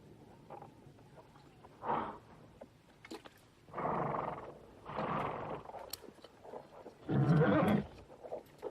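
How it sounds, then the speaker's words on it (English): A lion roaring at a distance in open country, several separate deep rumbling roars spaced a second or two apart, faint and low against a quiet background. "Smell lion, Jim?"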